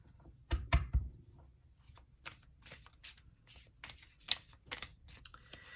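Tarot cards shuffled by hand at close range, a few soft thumps followed by a string of crisp papery riffles and flicks in irregular bursts, quiet and without talk.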